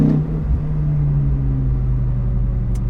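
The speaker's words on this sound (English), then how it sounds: "But I never thought I'd get to drive a V10 in this car." From inside a BMW E92 M3 swapped with a 570 hp S85 V10, the engine hums at a steady low drone while cruising, a constant cabin rumble with no talk.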